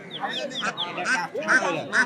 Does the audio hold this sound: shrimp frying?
no